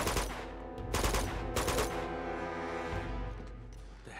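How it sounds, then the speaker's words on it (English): Enemy gunfire in the action game Uncharted 2: Among Thieves, heard as dense bursts of repeated shots with sharp volleys near the start and around the one-second mark, then continuing rattling fire throughout with no talk. "The hell are they shooting at?"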